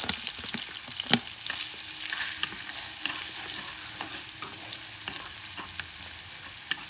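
Garlic sizzles in melted butter in a pan over medium heat, a steady crackling fry with scattered pops and a brief louder clink of stirring, close and fairly quiet, no voices.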